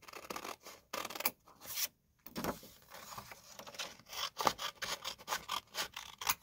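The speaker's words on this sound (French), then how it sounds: "Je vais vous découper une petite enveloppe là." Scissors cut out a small paper envelope close by in a series of crisp snips and rustling slices, with brief pauses between strokes and no voices.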